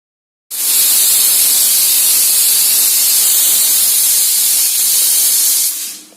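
A pressure cooker holding vegetables and dal for sambar vents steam in a loud, steady, close hiss lasting about five seconds, with no distinct whistle tone and no voices.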